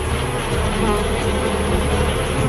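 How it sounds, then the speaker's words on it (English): A dense, steady buzz of many bees swarming close by, crowding against an invader, loud and continuous throughout. "the bees crowd belly to belly against the invading beast"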